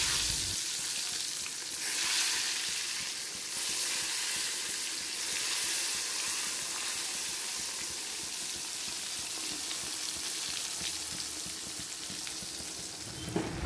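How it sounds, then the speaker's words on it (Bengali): Eggplant frying in plenty of hot oil in a home kitchen, giving a steady, dense sizzle with faint stirring, heard close and alone without talk. "বেগুনটা তো একটু বেশি তেলে ভাজলেই ভালো হয়, সেই কারণে বেগুনটাই আমি প্রথমে ভাজছি।"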